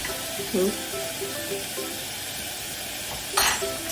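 Tomato and onion fry in a pan over a gas flame, a steady close sizzle with occasional stirring scrapes and a brief clink near the end.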